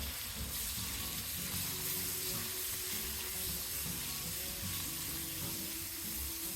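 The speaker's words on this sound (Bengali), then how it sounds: "কিছুক্ষণ আমি ভেজে নেব।" Boneless chicken pieces frying in a pan for a Chinese-style broccoli and chicken stir fry, giving a steady, even sizzle close up with no talking.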